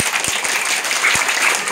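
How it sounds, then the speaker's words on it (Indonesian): A crowd applauds loudly in a dense, steady wash of clapping with a few sharper claps standing out, at a birthday gathering with children and mothers. "Tepuk tangan yang paling kencang."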